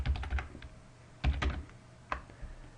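Typing on a computer keyboard at close range, with a quick burst of key clicks, a pause, then another cluster and a few scattered single taps.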